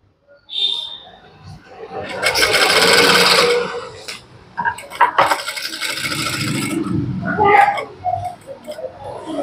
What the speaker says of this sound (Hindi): हम पहले बीच वाली सिलाई स्टिच करते हैं। इस वाली सिलाई को हम थोड़ा बड़ा करके स्टिच करेंगे